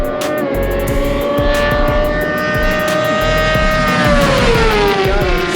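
Street roll race between a Suzuki GSXR1000 and a Kawasaki ZX10: loud, continuous high-revving engine whine climbing and then dropping in pitch as the bikes pull hard, close and dominant with no voices.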